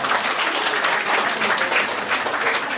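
A wedding audience claps loudly and continuously through the whole stretch as a dense, even burst of applause close by.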